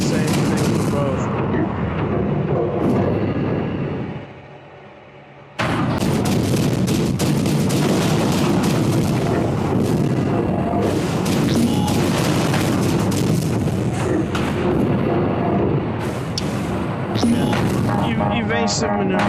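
Heavy gunfire and rocket blasts in the VR mech shooter Iron Rebellion, a loud, almost unbroken barrage of booms and rapid shots that drops out briefly near the middle before resuming just as intense, with a voice talking over it.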